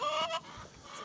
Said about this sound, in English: And these are all my chickens I got out here.